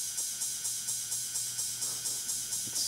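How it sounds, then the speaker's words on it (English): A sidechained drum pattern from Ultrabeat, with a steady, regular pumping pulse of bright, swelling hits repeating about every quarter second, moderately quiet and heard alone without voices. "So it's when it's sidechained, it sounds like this."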